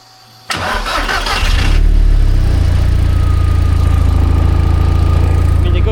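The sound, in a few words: Toyota MR2 engine starting and running warm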